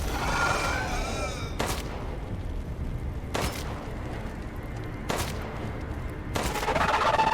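Four sharp gunshots ring out at roughly even intervals in Resident Evil Village, each a loud crack aimed at the head of a frozen enemy, with quieter game ambience between them.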